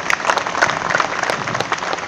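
An audience claps at a boys' hostel farewell function at Panjab University, Chandigarh. The applause is dense and continuous, close and loud, with no speech over it.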